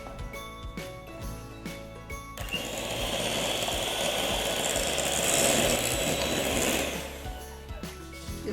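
An electric mixer beats eggless chocolate sponge cake batter in a bowl, a steady whirring motor drone that swells midway and then eases off, with faint clinks and no voices.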